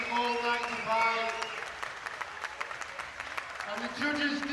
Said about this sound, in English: big round of applause please for both these fighters